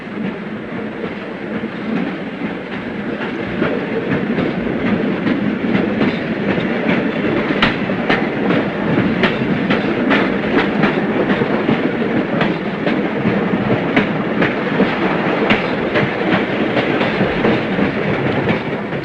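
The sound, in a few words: train running on the railway to Machu Picchu through tunnels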